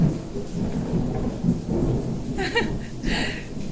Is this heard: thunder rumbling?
yes